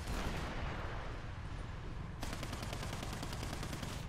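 Naval ship guns fire in a video game in a dense, steady barrage of rapid shots that blur into a continuous roar, with a sharper, faster-cracking burst taking over partway through.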